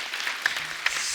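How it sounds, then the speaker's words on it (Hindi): Studio audience at a comedy talk show applauding, a short, steady wash of clapping at moderate level with no talk over it. "जोरदार ताली, बधाई हो।"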